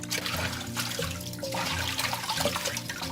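Water splashes and trickles continuously as vegetables are rinsed in salted water in a kitchen, with steady sloshing and dripping close by and no talking.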